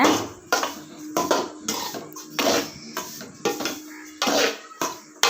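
Rava laddu mixture of roasted semolina and grated coconut stirred in a metal pan, with repeated loud scraping and clanking strokes in an uneven rhythm, close up and without talk.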